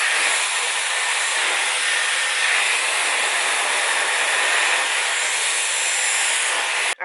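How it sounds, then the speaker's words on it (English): A Dyson Airwrap with the rough dryer attachment blows steadily on curly hair, a loud, even, close-up airy hiss that runs without pause before cutting off abruptly at the end. "So I'm gonna go ahead and rough dry this"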